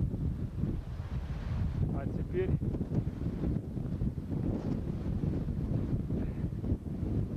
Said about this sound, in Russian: теперь ветер сдувает вершины в снегу